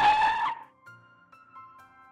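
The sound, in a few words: car braking to a stop in a parking lot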